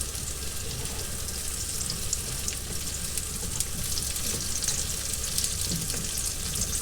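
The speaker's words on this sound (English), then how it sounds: "throw these tomatoes in and mix them up" Whole plum tomatoes frying in a pan, a continuous even hiss with faint scattered crackles throughout, fairly quiet and close, without any voices.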